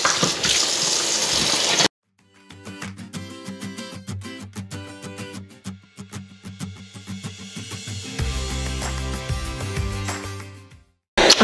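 Cold tap water runs into a kitchen sink to rinse cooked noodles, a steady splashing gush after a brief stop, with the flow swelling louder near the end before shutting off.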